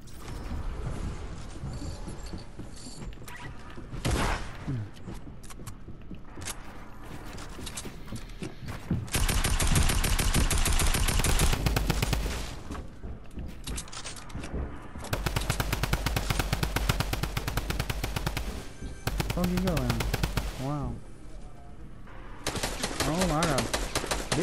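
Guns fire in a shooter video game in long rapid-fire bursts and fusillades, loud and dense, broken by short gaps, with voices talking underneath.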